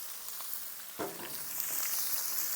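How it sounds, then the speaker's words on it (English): Cabbage sizzling in bacon grease on a Pit Boss griddle, a steady crackling fry that swells into a brighter, louder hiss partway through, close and alone with no voices. "I've got enough fat here that we can cook this cabbage in just fine"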